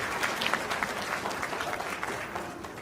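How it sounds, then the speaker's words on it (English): Applause from guests at Aman and Ravina's wedding reception, a steady mid-level patter of clapping hands filling the room for about three seconds with a little crowd murmur mixed in. "One more round of applause for Aman and Ravina."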